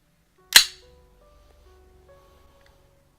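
A single sharp metallic snap from a heavy metal replica gun being handled, loud and close, followed by a faint ringing tail and near silence.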